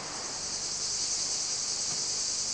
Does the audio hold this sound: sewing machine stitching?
no